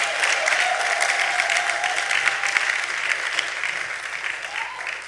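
Applause from an evening audience at an African fashion show in Portland for the event's caterer, a dense steady wash of clapping from a crowd, moderately loud, with a faint voice underneath.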